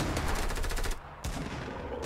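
Heavy shotgun fire in Fortnite: a loud, dense burst of gunfire fills the moment, cutting off briefly before resuming at close range, with no talking.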